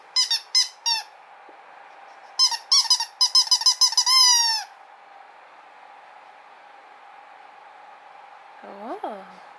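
A rescue dog's squeaky toy squeaked in short bursts: a few quick squeaks, then a rapid run of repeated squeaks ending in a longer one, close and clear, followed later by a faint squeak or whine.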